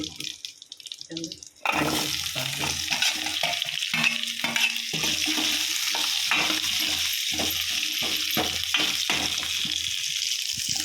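Water poured into a pot of sweet mango rasam during cooking, a close splashing pour followed by stirring and light bubbling with scraping clatters at a steady, busy rhythm.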